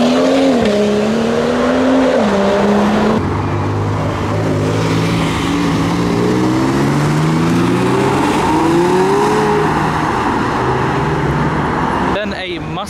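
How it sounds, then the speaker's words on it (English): An Aston Martin supercar driving up at a car show, its engine loud and close with rising and falling revs, joined by other vehicle noise. The sound cuts off abruptly near the end. "And casually just another Aston Martin showing up."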